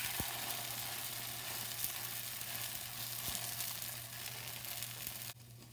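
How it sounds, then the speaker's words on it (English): Butter sizzles and fries steadily in a pan under a keto grilled cheese slice, a continuous close hiss with a few faint clicks, cutting off abruptly near the end. "I'll add more butter to the pan and cook the next slice."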